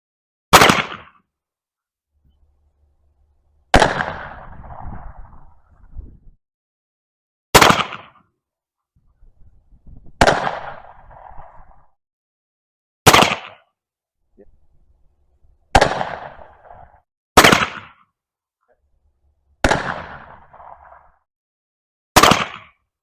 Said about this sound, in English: in that third cylinder, I put all 5 shots on the target